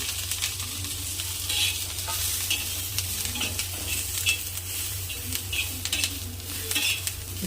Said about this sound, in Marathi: तापलेलं आहे तेल आता यामध्ये मिरची फ्राय करून घेऊ आपण